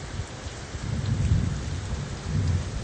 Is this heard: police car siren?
no